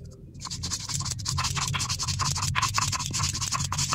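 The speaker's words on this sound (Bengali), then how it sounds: "প্রথমে আমি শুকনো ঝাল এবং জিরেটা বেটে নিই।" Dried chili and cumin being ground on a grinding stone, a close, rhythmic scraping with repeated back-and-forth strokes about every quarter second, steady and fairly quiet throughout.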